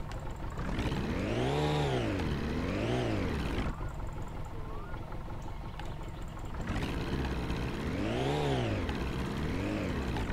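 A car engine in the game My Summer Car revs up in first gear, rising and falling in two sweeping whines, pausing to a rough idle, then climbing again through two more loud revs.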